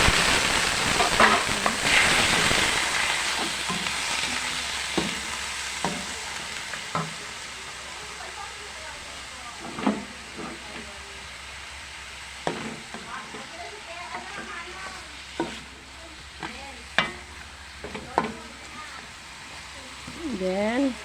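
Chicken pieces sizzle in a hot pan for a Filipino chicken dish with papaya, with a loud initial hiss of frying and then steady crackling and repeated stirring scrapes, close up, while a person talks.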